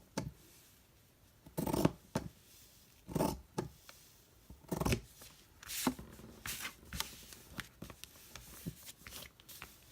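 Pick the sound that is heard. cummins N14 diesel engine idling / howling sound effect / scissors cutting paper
scissors cutting paper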